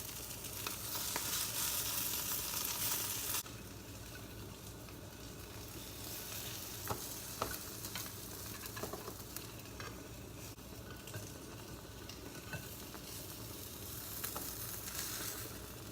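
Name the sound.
omelette frying in a pan on the burner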